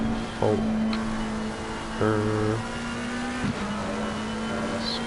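McLaren race car in a sim racing game at Monza, its engine revving in short bursts with rising tonal whine between lower idle-like stretches, heard at moderate distance with brief gaps between pulls.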